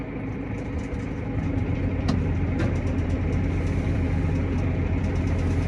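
A giant farm tractor running with its PTO engaged at 540 during pit cleaning, a steady loud low diesel drone with a dense mechanical rumble and faint knocks, no speech.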